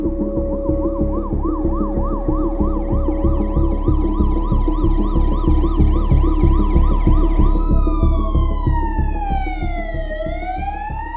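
A loud, close ambulance siren cycles in a fast yelping pattern, then shifts into slower rising and falling wails over a pulsing low vehicle rumble, with no voices.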